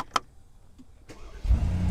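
Brabus Mercedes G-Wagon engine starting with a short click and a brief cranking sound, then catching into a loud, deep rumble that holds to the end.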